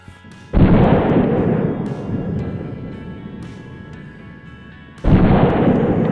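A pistol fires two loud shots several seconds apart, each a sharp boom trailing off into a long, rumbling echo, with no talking.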